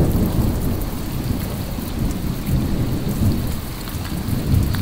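Heavy rain pours down in a steady, dense roar, with deep thunder rumbling beneath it throughout.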